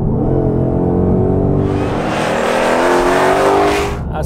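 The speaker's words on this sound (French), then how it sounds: "dès que on appuie sur l'accélérateur, ça part comme une balle" Ford Mustang engine revving up hard on a straight Florida road toward the Everglades, a loud, continuous rising roar with climbing harmonic pitch that swells over four seconds.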